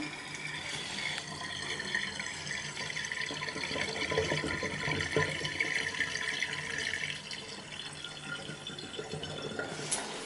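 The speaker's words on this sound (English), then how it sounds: "Running cold water" Cold tap water runs steadily into a kitchen sink while ripstop nylon is rinsed after dyeing, a constant close splashing stream with no talk.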